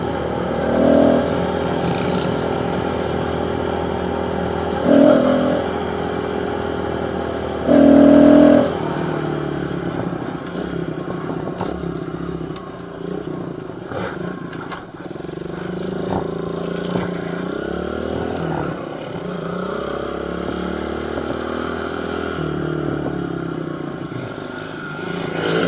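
A small pit bike engine revs and buzzes through wheelies, with several loud throttle blips early on followed by a steady droning ride whose pitch rises and falls, close to the microphone.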